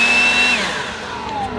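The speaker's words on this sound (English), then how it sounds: "meet my little friend, DeWalt brushless leaf blower or blower." A DeWalt brushless leaf blower blasts air to dry a Harley-Davidson motorcycle, a loud steady whine with a high tonal whistle that eases slightly as the airflow shifts, with no talking.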